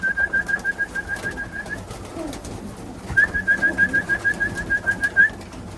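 Racing pigeons coo in a loft, a steady series of soft rhythmic calls in two bursts with a short pause between, fairly close and with no talk over them.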